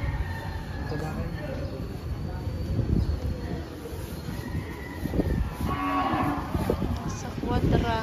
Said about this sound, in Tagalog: Ito na mga baka.